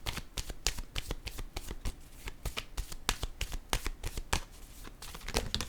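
Tarot cards are shuffled and drawn, giving a close, continuous run of rapid papery flicks and riffles in quick irregular rhythm without a break.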